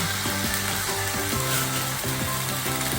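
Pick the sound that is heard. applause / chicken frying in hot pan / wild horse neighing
chicken frying in hot pan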